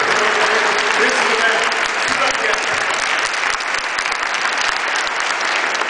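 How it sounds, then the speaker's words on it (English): Audience applause at a public event, a dense, steady burst of clapping from a sizeable crowd, loud and sustained for several seconds. "I want you to give him a nice round of applause, Dr. Colin Carey."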